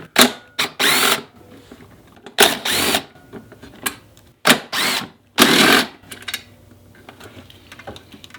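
Bursts of a cordless driver backing out four T25 screws to remove a Harley bagger headlight, short whirring runs separated by pauses, clicks and light handling noise, close and fairly loud.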